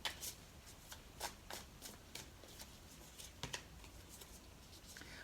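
A deck of tarot cards is shuffled during a reading, giving repeated crisp riffling bursts of fairly quiet, close card flutters with no voice.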